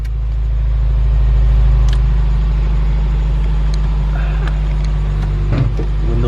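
A Subaru WRX fitted with a Perrin intake idles while warming up, giving a loud, steady low rumble with a constant engine drone throughout.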